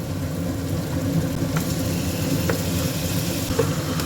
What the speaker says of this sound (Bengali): এবার আমি এই চিকেনগুলো এর মধ্যে দিয়ে দিচ্ছি